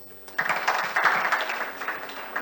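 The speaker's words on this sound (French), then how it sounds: "il mérite des applaudissements" Audience applause at a university launch ceremony, a short burst of clapping that starts abruptly and holds steady for about two seconds.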